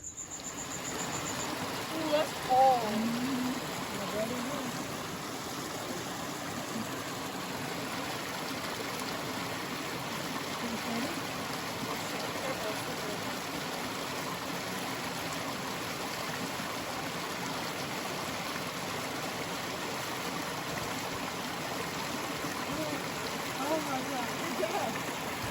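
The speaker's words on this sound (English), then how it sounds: "a nice quiet spot between Silverton and Durango with our own little creek" A small creek in the mountains between Silverton and Durango, Colorado trickles and babbles continuously at a soft, even level, with faint insect chirps and a brief murmur of voices early on.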